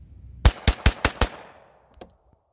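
Rapid fire from a suppressed 1911 pistol with a 16-inch barrel: five quick sharp shots in a tight burst, then one fainter report after a short pause, loud and close.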